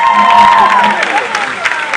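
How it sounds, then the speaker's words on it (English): Audience at the grand finale of a national science and maths quiz breaking into loud applause and cheering, a dense burst of clapping with crowd noise and a sustained whistle-like tone that eases slightly toward the end. "A round of applause."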